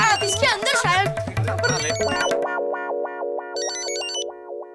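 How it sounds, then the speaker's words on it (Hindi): A mobile phone ringtone sounds indoors, first partly under overlapping voices and clattering, then clearly alone as a repeating electronic melody with a higher chiming layer joining near the end. "लगता है किसी का मोबाइल बज रहा है।"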